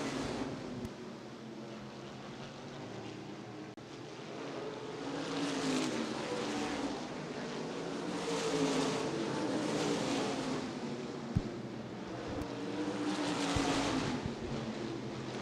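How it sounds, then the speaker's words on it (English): Modified stock cars race around a speedway at a 2014 ICAR Top Speed Fabrication Modifieds event, engines roaring in continuous overlapping waves as packs sweep past at a moderate distance. "Traffic might come into play here as Jeff Lane and TJ Fisher come up upon guys racing for the spot"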